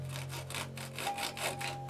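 A handsaw cuts through plywood during a wing-building job, giving rhythmic back-and-forth rasping strokes, about six in under two seconds, close and fairly quiet with no talking.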